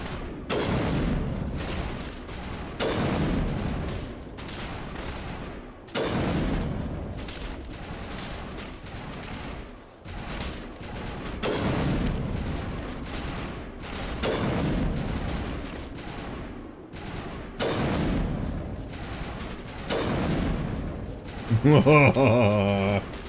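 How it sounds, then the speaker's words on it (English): Sniper rifle shots in the video game Mass Effect land as heavy, separate reports spaced a few seconds apart, each trailing off, with game sounds and some talk around them. "I shall snipe from afar"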